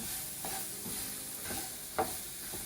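Roux being stirred into softened onions in a pan for shrimp piquante: a steady close sizzle with a few scraping spoon strokes through it, and no talking.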